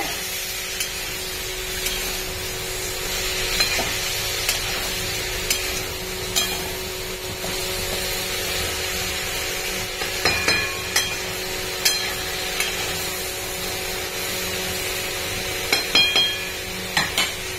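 Vegetable stalks for danta aloo posto frying in a pan, with a continuous hiss and sizzle and scattered sharp knocks and scrapes of stirring that come more often toward the end, with no voices.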